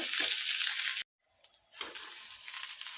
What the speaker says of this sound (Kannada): ಈಗ ಹುರಿದಾವ ನೋಡ್ರಿ ಫ್ರೆಂಡ್ಸ್ ಇವು ಚಟಪಟ ಸಿಡಾಕತ್ತಾವ